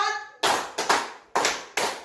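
Hands clap together in a counted clapping game, several sharp bursts arriving in a steady, quick rhythm, close and loud, with a voice speaking just before the first burst.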